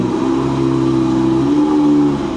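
A Lamborghini Gallardo Spider engine pulls steadily under acceleration, a loud, close, sustained drone with a gradually rising pitch and no talking over it.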